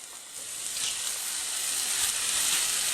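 Food coated in Saki ginger marinade sizzles steadily in a non-stick pan, a broad, even hiss that holds close and loud without a break, with no voices over it.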